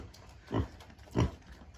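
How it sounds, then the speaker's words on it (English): Two short, low grunts from a pig, close and distinct, spaced about half a second apart over a quiet background. "Goofy pig."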